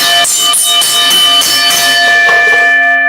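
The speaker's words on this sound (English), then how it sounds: "that's the last bell." A bell rings loud and close, its sustained metallic tones struck repeatedly in a steady rhythm with lingering overtones and no voices.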